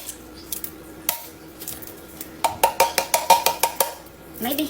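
A spoon knocks and scrapes inside a container while canned pumpkin is dug out for pumpkin bread, a run of quick, close metallic clinks and taps in a rhythmic burst, with occasional talk around it.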